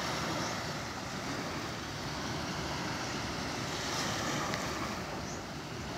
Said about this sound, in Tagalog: Lakas ng alon, sobra.